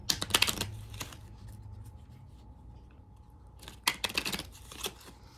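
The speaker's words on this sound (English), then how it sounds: "I'm just going to shuffle." Crisp papery riffling of oracle cards being shuffled in two short bursts at the start and end, with a quiet pause between; close by, no talking.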